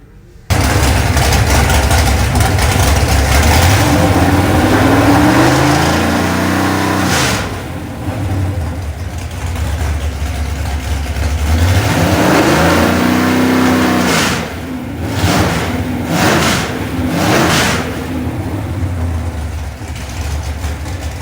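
An all-aluminum Shelby 482ci Ford FE V8, built for a 1976 F-250, runs loudly on a dyno, holding a rough idle between sweeping revs up and down, close and dominant throughout.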